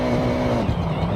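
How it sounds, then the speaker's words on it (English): A loud turbocharged car engine with anti-lag in a Forza Horizon driving game roars hard, shifting pitch partway through, with a brief hint of tire noise and no talking. "You can hear the engine has more power. The anti-lag working hard to keep the turbo spooled up."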